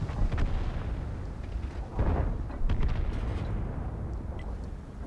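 A tank cannon firing and a shell exploding in World of Tanks, with a sharp report and a booming burst near the middle over a rumbling low background, with no talk.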